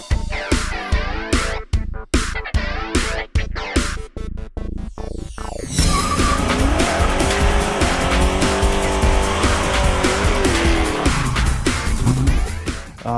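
A 1969 Chevelle SS496 with a V8 engine drives hard, first with a rapid series of sharp percussive pulses, then a sustained loud engine roar with tire squeal, close and powerful.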